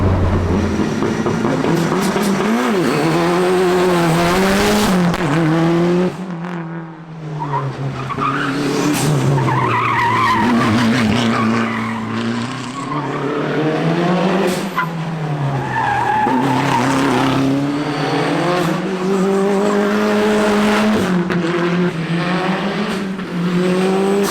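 Mitsubishi Evo race car lapping a track at full pace, its engine roaring loud and close throughout with pitch rising and falling through gear changes, tires skidding and squealing through the corners, a brief dip in the middle.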